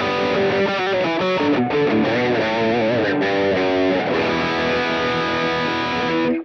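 Electric guitar played through a Mooer Cab X2 pedal with Twin Reverb and Vox AC30 cabinet simulations, a distorted, effects-laden riff with sustained chords and melodic runs, loud and continuous, ending abruptly.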